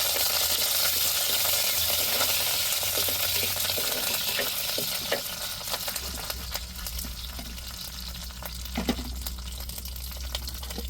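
Onion and curry leaves frying in a pan, giving a steady bright sizzle with occasional stirring clatters; the hiss is loudest early and eases, while a low hum enters partway through.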